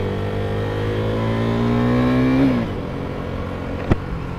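A 2015 KTM RC390 motorcycle engine revs steadily, pitch climbing slowly before dropping off abruptly to idle, followed by a brief sharp click.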